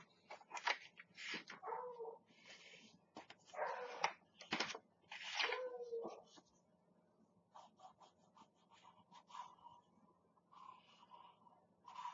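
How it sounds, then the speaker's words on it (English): A beagle howls and yips at night, a run of short bursts clustered in the first half and then fainter, thinner cries after, all set against a low steady hum. "That beagle is just being very obnoxious tonight. I don't know if you can hear him up there howling."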